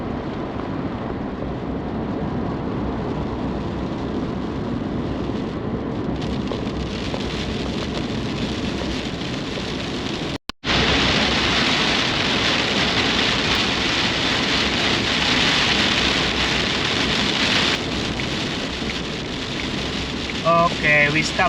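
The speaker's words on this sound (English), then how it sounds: "there is a heavy rain" Heavy rain drums steadily on a moving Suzuki Jimny during a road trip in Australia, a dense continuous wash that swells louder after a brief cut midway, with faint voices underneath.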